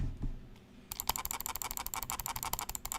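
A computer mouse is clicked rapidly during a gaming session, a dense burst of sharp, fast, near clicks that begins abruptly after a quiet start and keeps going unevenly.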